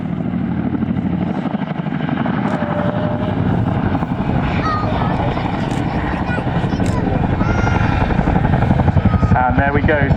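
Helicopter performing a pedal turn at the RAF Cosford Airshow, a continuous loud rotor thrum and turbine whine that swells toward the end, with a commentator's voice running over it.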